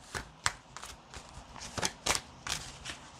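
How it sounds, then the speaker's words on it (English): Tarot cards shuffled by hand at close range, a series of sharp riffling snaps and soft slides in an uneven rhythm, heard alone without talk. "now I am going to shuffle here"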